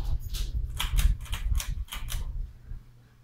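A 1990s Hampton Bay Bridgeton 42-inch ceiling fan running on high, giving a low, soft motor hum with a series of rhythmic clicking ticks from the fan, close by and fairly quiet.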